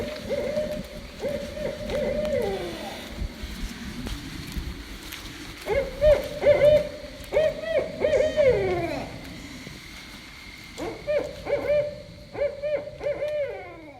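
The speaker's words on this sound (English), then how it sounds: "That is an owl up in a tree" An owl hoots from up in a tree at Bradley Palmer State Park, repeated tonal calls in irregular bursts, fairly clear against a quiet outdoor background.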